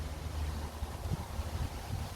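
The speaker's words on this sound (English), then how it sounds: "Sorry for the wind, a bit windy." Low, steady wind rumble buffets the microphone throughout at a waterside fishing spot, with faint water movement underneath and no voices.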